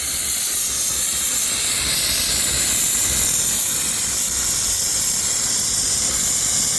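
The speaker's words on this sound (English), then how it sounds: "There's air coming out from that thing." Air blowing out of a Rainbird sprinkler valve while a lawn sprinkler system is winterized, a loud steady rushing hiss close by, constant throughout with no voices.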